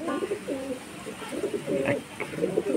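Madras pigeons kept in a Kolkata loft coo nearby in repeated soft, throaty phrases, several short calls spaced across a few seconds with low background noise.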